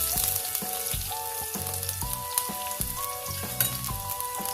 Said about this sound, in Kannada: ಇವಾಗ ಬಿಸಿಯಾಗಿದೆ ಎಣ್ಣೆ, ನಾನು ಈರುಳ್ಳಿನ ಹಾಕ್ತಾ ಇದ್ದೀನಿ